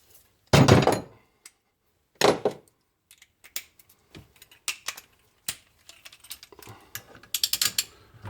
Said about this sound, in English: We're going to take our torque wrench and set it to 100 pounds.